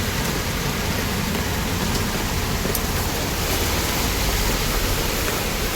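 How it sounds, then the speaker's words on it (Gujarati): Steady rain pours down in a dense, even hiss outside a small street food shop, with no break or change in strength. "તો વરસાદ પણ અત્યારે ચાલુ છે."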